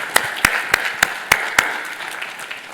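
Audience applause for volunteer conference organizers at a PostgreSQL conference talk in India: a run of sharp, distinct claps, about six loud ones in the first second and a half, then a softer, sparser patter that fades out.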